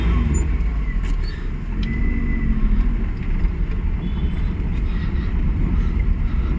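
A Maruti car driving slowly on an H-type driving test track, a steady close engine hum and road rumble with no talking.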